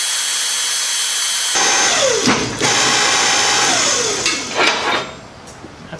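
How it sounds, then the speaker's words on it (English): Rogue Fabrication's electric hydraulic tubing bender with auto stop kicks on suddenly with a loud whining hum. The pitch sweeps down and back up twice, with a couple of sharp dips and knocks as the motor works and pauses. "Tubing bender from Rogue Fabrication with an auto stop."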